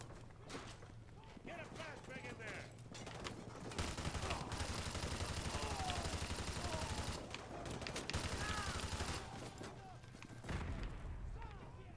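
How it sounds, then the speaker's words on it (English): An RPD light machine gun fires in Modern Warfare 2 Remastered in long sustained automatic bursts. Dense rapid rattling fills most of the stretch, with a pause between bursts, and someone talks over the gunfire. "there's an RPD back here. I love this gun."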